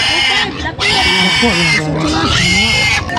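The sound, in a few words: large pig grunting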